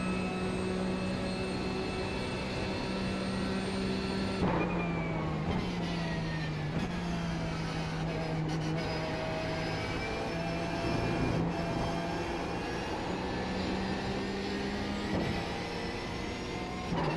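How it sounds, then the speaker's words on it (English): A Porsche 911 GT3 Cup racing engine in the iRacing simulator at Watkins Glen wails steadily at high revs. Pitch rises and drops sharply with each gear change and corner, loud and continuous, with no talking over it. "Really love that sound of that Porsche."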